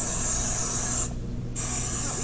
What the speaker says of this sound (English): We're going to spray our waffle maker.